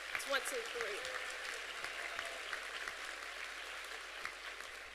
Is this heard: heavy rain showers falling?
no